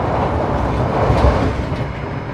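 Inside the Brawijaya passenger train, a steady, loud rumbling rattle of the carriage on the rails fills the space, continuous and close with a slight swell partway through.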